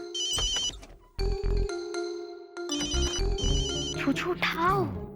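Telephone ringtone trilling in repeated bursts, loud and close, with a pause between rings, while someone speaks over and between them.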